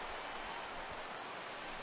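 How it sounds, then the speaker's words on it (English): Rain falls steadily in a baseball video game, a soft, even hiss of drops on surfaces, faint and continuous with no talk. "the rain continues to fall here"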